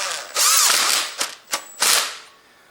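A locking bolt is fitted on a 2006–2015 Honda Civic with a power tool, heard as a long whirring burst followed by several short sharp ratcheting bursts, close and clear.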